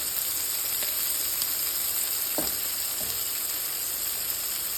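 Shrimp fry in hot oil with a steady, close, bright sizzle, broken by a few soft clinks or stirs, and no voices.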